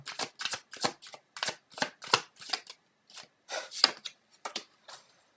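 Tarot cards being shuffled and drawn by hand: a run of crisp, close riffling and slapping bursts in an uneven rhythm, with short pauses between them and no voices.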